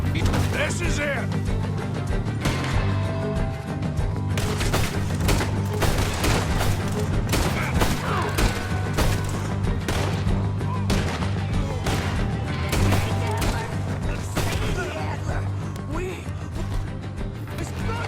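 Gunfire in the western game Red Dead Redemption 2, dense volleys of shots and booming blasts crackling continuously over a loud battle, with voices speaking underneath.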